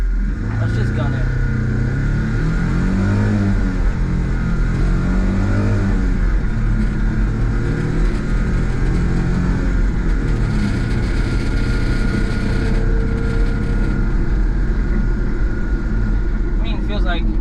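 A turbo Mitsubishi Townbox kei van's small engine revs hard under full throttle, with the pitch climbing through the gears over steady road noise while people talk inside the cabin.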